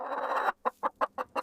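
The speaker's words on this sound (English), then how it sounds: "This is a hen." A hen gives a longer drawn cluck followed by five short, evenly spaced clucks, close and clear with nothing else around them.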